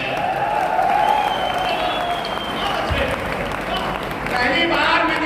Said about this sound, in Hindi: पहली बार मैंने इस सदन में दोनों खंड से उठी हुई तालियां देखी